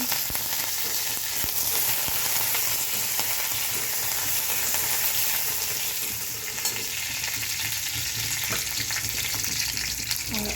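Curry leaves, turmeric and chili fry in hot oil for an okra bhaji, a dense, continuous crackling sizzle that stays loud and even from start to finish.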